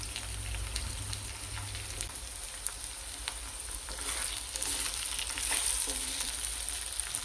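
Fresh curry leaves and asafoetida crackling in hot oil in a pan for an Andhra-style bitter gourd fry, a close, steady sizzle with sharp spits and pops throughout, no voices.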